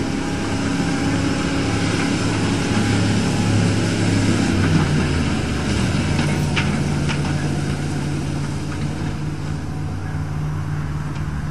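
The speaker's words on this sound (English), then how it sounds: "You can hear the turbo on the bus." A school bus engine with a turbo drones steadily during a farm race against a dump truck, a loud continuous rumble with a faint higher whine, no talking.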